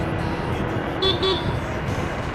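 Motorcycle horn giving two short beeps while overtaking on a road, heard over steady traffic and engine noise, up close.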